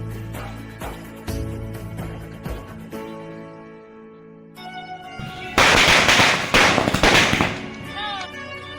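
Diwali firecrackers bursting in a village celebration: a run of sharp cracks and loud pops, some close and some farther off, with a dense crackling barrage near the end over background music.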